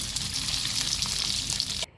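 Leftover rice goes into a hot tempering of spices with salt and turmeric in a pan, producing a loud, dense, continuous sizzle close up that cuts off abruptly near the end.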